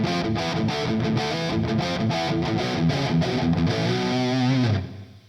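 Electric guitar played through a Mr. Smith Distortion amp model styled on a PRS Archon in a LEKATO PA-1 headphone amplifier, loud saturated chords and riffs in steady rhythm, ending on a held note that cuts off.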